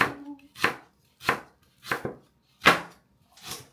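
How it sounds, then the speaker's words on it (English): A knife chops spring onions on a board: six crisp, close chops at a fairly steady, unhurried pace, with no talk. "Let's cut some spring onions and half cut of just onions"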